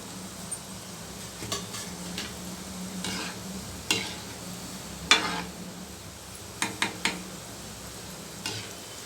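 Gulab jamun made from MTR mix deep frying in hot oil, a steady low sizzle with scattered sharp clinks and scrapes of a utensil against the pan, close by and with no talking.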